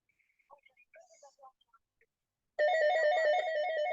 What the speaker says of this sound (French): Il y a de la sonnerie, il y a une sonnerie.